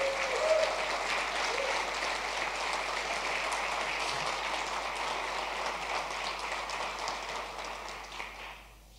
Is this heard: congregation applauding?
yes